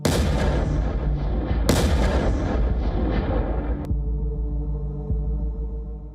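A FAB-3000 glide bomb detonates with a loud, sustained roar of blast and rumble, a second heavy burst hitting partway through before the noise cuts to a low droning hum that slowly fades.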